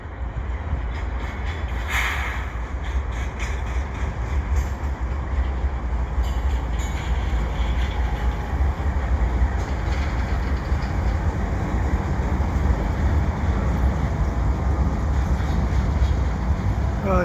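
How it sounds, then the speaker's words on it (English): Long CP eastbound freight train rolling past Dorval ramps in winter, a loud continuous rumble of wheels and cars that holds steady throughout, with brief higher screeches early on and no voices. "Another CP train coming in."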